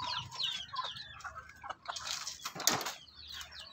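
A Shamo hen clucks softly and flaps her wings in brief rustling bursts, close and fairly quiet, with a few faint chirps mixed in.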